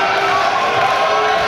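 A live wrestling crowd at a Celtic Championship Wrestling show in Bishopstown keeps up a continuous roar of cheering and shouting, dense and loud for the whole short span.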